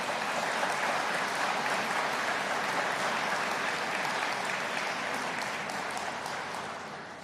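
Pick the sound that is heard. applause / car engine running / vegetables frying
applause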